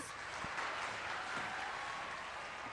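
Studio audience applause on a Pakistani TV game show, a dense continuous clatter of many hands at moderate level with a couple of sharp thumps early on.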